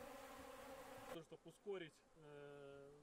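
Bees buzzing around beehives at an organic eco-apiary in Kostanay region, a steady droning hum that starts loud, breaks off briefly and resumes at a lower, even pitch, with no speech.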